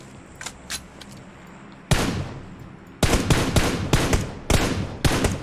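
Rapid bursts of automatic gunfire in the PUBG Mobile shooter, one short volley followed by several loud, close, clustered strings of shots after a quieter pause with faint distant pops.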